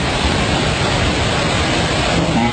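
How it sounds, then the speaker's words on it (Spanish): Strong gust of wind roars as a steady, loud broadband rush, with no breaks and no voices. "Ventada fuerte."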